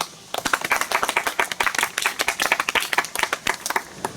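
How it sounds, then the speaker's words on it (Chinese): A small group claps steadily for a few seconds, a close, lively patter of applause with no talking. "来宾，请掌声欢迎猴子小姐。"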